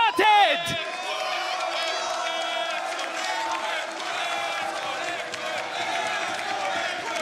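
Studio crowd at the VCT EMEA grand final, a Valorant esports event, cheering and roaring loudly and continuously with whoops rising throughout while a caster talks over the noise.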